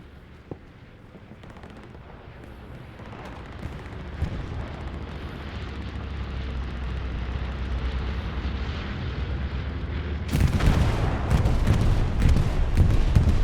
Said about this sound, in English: Dagger dies to his own grenade.